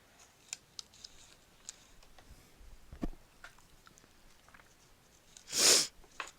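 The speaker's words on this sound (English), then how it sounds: "I've got the sniffles all of a sudden while on camera." A few soft sniffles and small nasal sounds scattered through a quiet stretch, ending in a louder sharp sniff or sneeze near the end.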